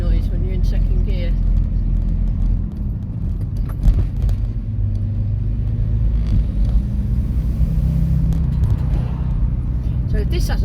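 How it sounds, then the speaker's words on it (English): A van engine running in second gear gives a steady low rumble and drone that lasts throughout, with a brief dip partway through, no hissing, and a voice talking faintly over it. "This is a different noise when you're in second gear."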